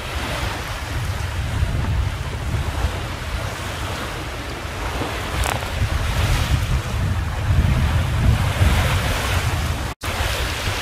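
Wind and waves while sailing a boat in about 20 knots of breeze against the tide off the Queensland coast, a constant roaring rush of wind and water with surging swells and a brief buffeting gust.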